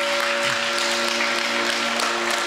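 A Christian congregation claps loudly and steadily throughout, a dense wash of hands with a faint sustained tone running underneath.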